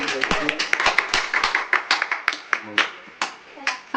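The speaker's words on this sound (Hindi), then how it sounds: "तालियां जोर से" Loud, quick clapping by a small family group celebrating a birthday at home, a rapid, slightly uneven run of close hand claps with a voice mixed in.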